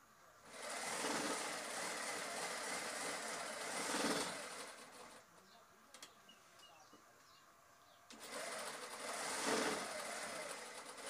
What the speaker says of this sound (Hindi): कमीज में सिलाई मारते हुए